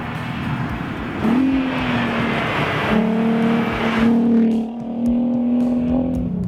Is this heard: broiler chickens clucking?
no